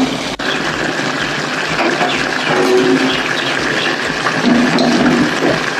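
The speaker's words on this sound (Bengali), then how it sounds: "আমি গরম জলটা দিয়ে দিলাম।" Hot water poured into mutton and potato curry in a home kitchen, a steady loud rushing pour that runs continuously for several seconds with no talking.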